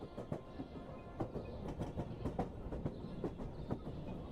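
Video game train rolling along a railroad through the Lost Woods, a steady clickety-clack of wheels over rail joints with a low rumble, moderately quiet and unbroken.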